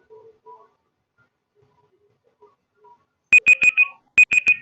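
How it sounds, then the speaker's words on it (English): A quiz timer's ending alarm sounds as a loud, rapid series of electronic beeps in two bursts, after a near-silent stretch with only faint, brief murmurs. "So your 20-second timer starts now."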